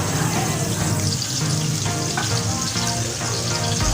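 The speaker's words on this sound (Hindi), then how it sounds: "ये थोड़ा सा चला लेंगे हम, तो प्याज को ब्राउन होने देते हैं" Onions fry to brown in a pan for murgh musallam, a loud, continuous sizzle with occasional stirring scrapes, close up and with no speech.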